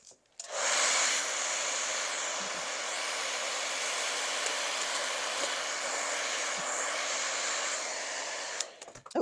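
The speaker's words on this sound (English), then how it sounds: "I also used the hairdryer as I was peeling it to loosen up the glue" A hair dryer heating a sticker to loosen its glue blows steadily at close range with a loud, even whoosh, switching on near the start and cutting off just before the end.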